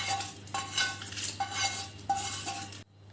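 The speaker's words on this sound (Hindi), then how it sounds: "अब हम इन सारे मसालों को एक बाउल में ट्रांसफ़र कर देते हैं" A metal spoon clinks and scrapes against a bowl as ground spices are moved into it, in a few quick, close, bright taps with short pauses between them, with no talking.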